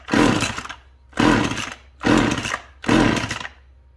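McCulloch chainsaw pulled over without the choke, four loud rasping starter-cord pulls in steady rhythm, each a short burst of cranking that fails to catch.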